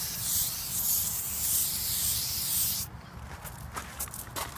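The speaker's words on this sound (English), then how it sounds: "You come up front and spray it on your electric jack." A steady pressurized hiss of an aerosol lubricant spray can, sprayed on an RV trailer's electric jack, runs for about three seconds, then cuts off, leaving faint rubbing and handling noises.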